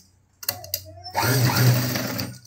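A sewing machine runs steadily as it stitches a boat-neck princess-cut blouse, starting after a couple of short clicks and then whirring loudly and continuously with no talk.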